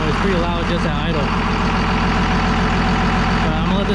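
A 1966 International Loadstar truck engine idles with a loud, breathy intake roar over a steady low rumble, constant throughout.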